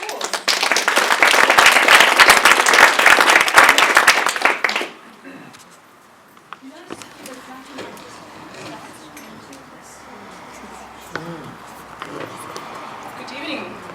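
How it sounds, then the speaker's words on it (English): An audience applauds at an evening talk on earthing and grounding: a dense, loud burst of clapping lasts about five seconds, then stops abruptly, leaving a quiet room with faint shuffling. "let's give her a round of applause"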